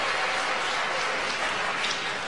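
Audience applause at a South Carolina political rally, a dense steady wash of many hands clapping loudly throughout with no gaps.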